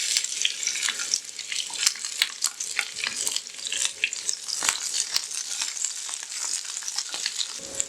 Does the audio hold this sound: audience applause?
no